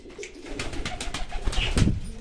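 Pigeons in a loft coo in soft, repeated throaty calls, several overlapping and close by, building slightly louder near the end.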